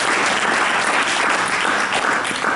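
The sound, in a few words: audience applause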